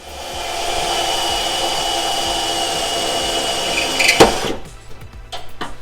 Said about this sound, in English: I think I'm gonna have to go ahead and cut a little more of this fender out to get in there.